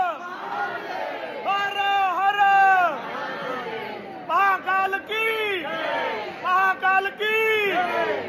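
A large crowd queuing for evening darshan at the Mahakal temple chants "Jai Mahakal" in loud, rhythmic, unison bursts of voices, with short pauses between the repeated cries.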